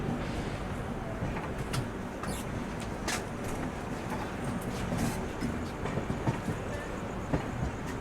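A steady rumble of the Bilaspur–New Delhi Rajdhani Express rolling on rails, heard from inside an AC 3 tier coach, with faint rhythmic clatter and occasional sharper clicks over a constant wash of noise.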